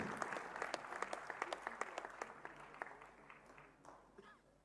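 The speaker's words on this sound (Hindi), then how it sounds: "तालियां तब तक बजाते रहिए जब तक कि मैं रवि को इनवाइट न करूं" Crowd applause at a Haryana ceremony honouring Olympic athletes, for silver-medal wrestler Ravi Kumar Dahiya: many hands clapping in a sharp, sustained patter that gradually thins toward the end.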